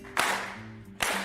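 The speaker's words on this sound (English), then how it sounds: "So I want everyone to start clapping." Two loud, sharp claps about 0.8 seconds apart from a group session, each ringing briefly with a hum underneath.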